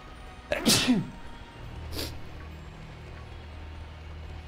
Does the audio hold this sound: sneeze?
yes